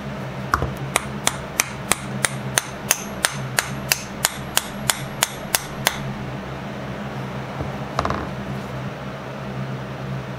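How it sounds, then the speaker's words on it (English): A wedge being hammered into a desert ironwood hammer handle, about sixteen sharp, evenly spaced metallic taps over six seconds, then a lone strike later, close over a steady mechanical hum. "And delicately force the wedge in."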